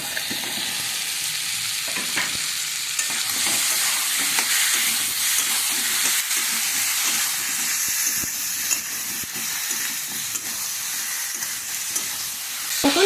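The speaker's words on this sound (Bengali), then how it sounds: "এবার লাউগুলোকে একটু কষিয়ে নেব।" Bottle gourd sautéing in a pan makes a loud, steady hiss and sizzle with scattered stirring scrapes and taps throughout, close up and without speech.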